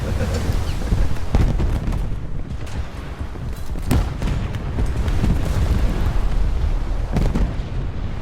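Naval shell strikes on a target in the War Thunder naval battle game, heard as repeated heavy booming explosions and rumbling gunfire over a dense, continuous battle din.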